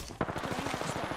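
Rapid gunfire in the online shooter Apex Legends, a fast burst of repeated shots fired close and loud over about a second, with a brief faint voice.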